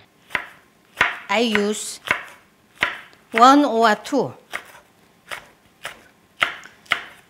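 Serrano green chili pepper and garlic cloves chopped with a knife on a cutting board, sharp regular knocks of the blade, close and loud, with brief bursts of talking between the chops.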